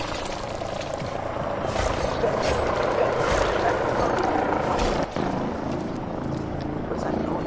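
A helicopter heard as a continuous, fairly loud rotor drone with a steady low rumble, running throughout with voices talking over it.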